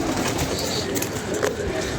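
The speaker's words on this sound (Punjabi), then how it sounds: "ਦਾਣਾ ਪਾਣੀ ਹੋ ਗਿਆ ਕਬੂਤਰਾਂ ਨੂੰ, ਪਾਣੀ ਸ਼ਾਣੀ ਪੀ ਰਹੇ ਨੇ।" Pigeons coo softly amid a steady background hiss, their low calls repeating under a noisy ambience without any speech.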